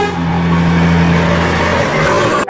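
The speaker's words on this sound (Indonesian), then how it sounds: "Wah, yang ini truk pasir teman-teman." A sand truck carrying soil gives off a close, steady engine rumble with a low droning hum that holds evenly throughout and then cuts off at the end.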